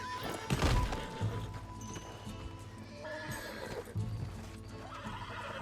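A horse neighs loudly and its hooves clip-clop in Red Dead Redemption 2, with a sharp whinny early on followed by hoofbeats and thuds over game ambience.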